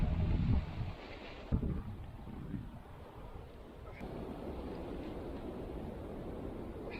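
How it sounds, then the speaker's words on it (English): Wind blows at an exposed winter campsite in gale and snow squall conditions, buffeting the microphone with low rumbling gusts that are strongest at the start, then settle into a softer, steady rush. "the wind isn't so bad here"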